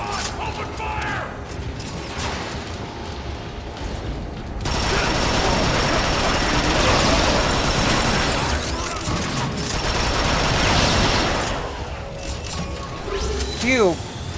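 Robot gunfire in a Transformers-style video game, a sustained mechanical clatter and volley of shots under game noise, growing denser in the middle with whirring and creaks.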